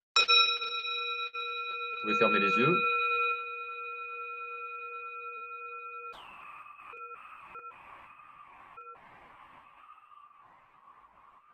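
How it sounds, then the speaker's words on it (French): A meditation gong is struck once and rings out with steady sustained tones that slowly fade, while a voice speaks over the ringing in the middle and again toward the end. "je vais sonner le gong"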